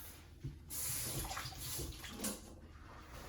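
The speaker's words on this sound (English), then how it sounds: "And then I rinse the egg off." A kitchen tap runs while a peeled hard-boiled egg is rinsed under it, a faint, steady splashing stream that swells and shifts as the water hits the egg, with no talk.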